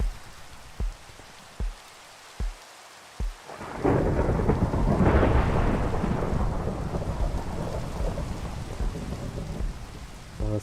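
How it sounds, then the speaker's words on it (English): Thunder from a Minecraft storm starts as a few sharp clicks, then swells into a long low rumble with steady rain on surfaces, loud and continuous with no voices. "Let's clear that storm."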